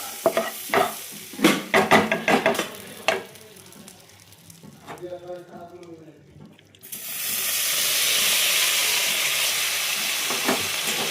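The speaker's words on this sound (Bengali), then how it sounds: "বাটার দিয়ে পনির দিয়ে কিন্তু একটু হালকা করে আমি ভেজে নেব।" Paneer is stirred in a pan, scraping and clattering in uneven bursts, then a loud, steady hiss of frying in butter takes over and holds to the end.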